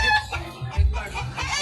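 Imported Red Farm backyard chickens cluck close by in a series of short, choppy calls with scratchy outdoor background noise.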